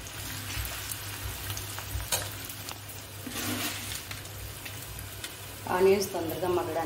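Chopped onions and green chillies fry in hot oil in a pan, giving a soft, steady sizzle with occasional crackles, while a voice speaks briefly near the end.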